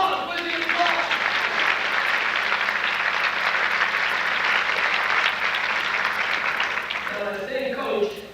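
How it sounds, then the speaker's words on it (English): An audience applauds at a youth soccer skills demonstration, a sustained, even wash of many hands clapping for about seven seconds before it thins and fades at the end. "Applause!"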